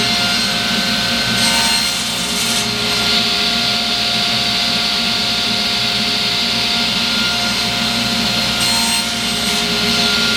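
Wooden dowels, quarter inch and half inch, being cut to length with a saw in a workshop: a steady, continuous rasping drone under a constant machine hum, close and fairly loud, no talking.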